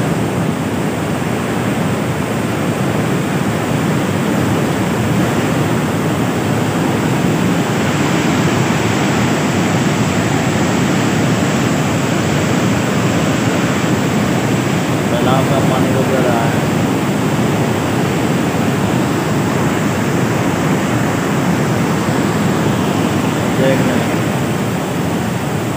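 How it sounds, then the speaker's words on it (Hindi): Loud rushing water pouring through Taunsa Barrage at dusk, a constant roaring hiss with no letup, heavy and close throughout. "शोर है पानी का बहुत ज़्यादा"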